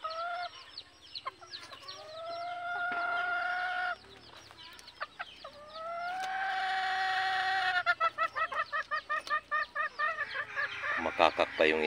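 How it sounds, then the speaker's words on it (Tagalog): A hen clucks and cackles nearby on a farm where Talisayin and Labuyo chickens are kept. Drawn-out calls give way to a rapid string of sharp, rhythmic clucks that builds toward the end, loud and close. "Makakak pa yung inahin natin dyan."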